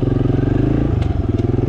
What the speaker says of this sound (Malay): Saya test dengan motor Aveta Ranger Cup Cross